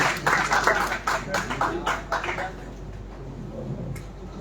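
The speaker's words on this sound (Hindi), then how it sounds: "जोरदार तालियों से स्वागत कीजिए।" An audience claps at a Hindi poetry recital and award ceremony, a burst of brisk clapping that thins out and fades to quiet room tone after a couple of seconds.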